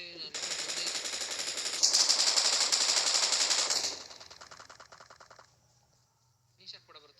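Rapid automatic gunfire from the video game PUBG rattles loudly for about four seconds, then fades into softer trailing shots and falls silent, with a brief faint sound near the end.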